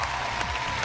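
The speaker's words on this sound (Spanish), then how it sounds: "¡Un aplauso para ella!" Studio audience applause on a Spanish-language talk show, a steady dense wash of clapping filling the short moment from start to end at moderate level.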